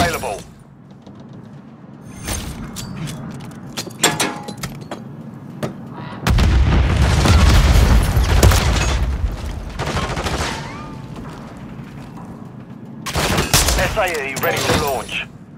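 Call of Duty battle sounds, with scattered gunshots and bursts of fire, then a heavy rumbling airstrike explosion that rolls on for several seconds, followed by more shots and clatter.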